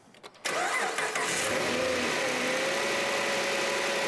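A car engine on a garage test cranks briefly, then catches and settles into a steady, loud idle.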